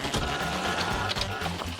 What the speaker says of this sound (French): C'est le moment d'utiliser ma super mini imprimante.